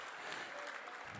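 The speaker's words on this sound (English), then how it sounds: "Give her a good round of applause" Brief, dense applause from a crowd after a sale at a charity auction during an athletics hall of fame event, with many hands clapping together at a steady level.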